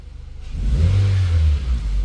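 A 2013 Nissan Sentra engine idles and rises in a low, steady rumble, building in loudness after the first half second and holding steady; the car has a sudden run-on jump fault after a transmission replacement.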